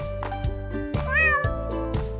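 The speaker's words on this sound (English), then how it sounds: "It's a cat. Cats say meow." A domestic cat meows twice, close and clear, each call a drawn-out tonal cry with a rising then falling pitch, with no voices alongside.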